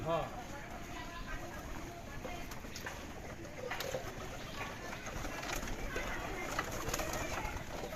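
Native pigeons coo at a large pigeon farm, soft repeated low coos mixed with rustling and occasional sharper sounds, while people talk nearby over the birds.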